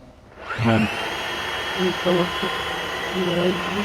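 A Dyson Wash G1 cordless wet floor cleaner powers up with a rising whir and then hums steadily, with a person speaking over the running motor.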